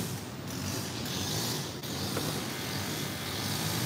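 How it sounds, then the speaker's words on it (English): A lawn mower cuts grass out back behind the house, a steady, loud broadband engine drone that runs without a break and carries no speech. "They're cutting the grass in the back."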